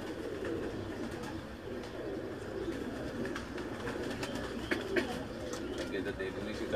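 Pigeons of an old rooftop flock coo softly in a low, continuous murmur, with a faint voice talking underneath and a few small knocks near the end.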